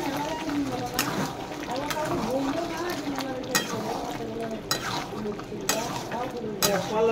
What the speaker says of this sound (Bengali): গরম মশলা, নেড়ে চেড়ে নিলাম।